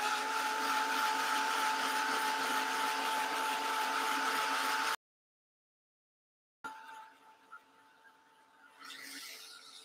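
A heat tool blows steadily and loudly while drying acrylic paint and gesso on a painted background, cutting off abruptly, then restarting more faintly with some handling noise.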